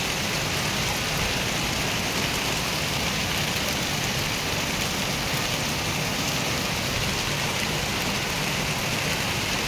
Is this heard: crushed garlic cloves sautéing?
no